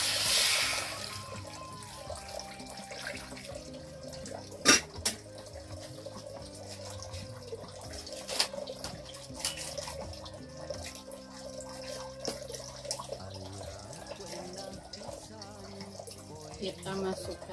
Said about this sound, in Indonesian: Kasih air dulu.